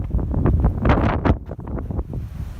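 Strong wind gusting outdoors around a house yard, loud buffeting rumble and roaring bursts battering the microphone throughout, peaking in the middle and easing slightly toward the end.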